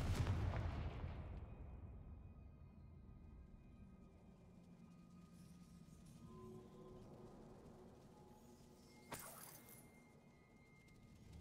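A Confringo blasting spell in the video game Hogwarts Legacy bursts with a heavy, booming explosion that rumbles and fades over several seconds, followed later by a brief sharper crack, with no speech.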